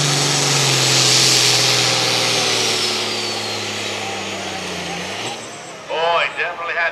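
A Super/Pro Stock pulling tractor engine with a misfire roars loud and close at a tractor pull, then its droning pitch sags and fades. Voices break in over the last moments.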